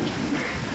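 Steady rain falls in an old 1938 film street scene outside a theatre at night, a dense, even hiss with low rumble, continuous and fairly loud throughout the short stretch, with no voices.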